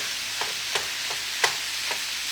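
Steady high hiss of meat sizzling in a pan, with a few soft clicks and faint pops scattered over a constant crackle, fairly close.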